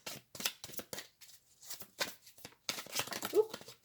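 Playing cards riffle and snap in several quick bursts close by, with short pauses between shuffles.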